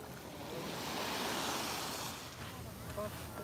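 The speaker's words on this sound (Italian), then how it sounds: "Questo è il mare stamattina" Sea waves wash onto the shore on a morning beach, a steady, close surf roar with a swelling rush that fades slightly and lingers, wind buffeting the microphone.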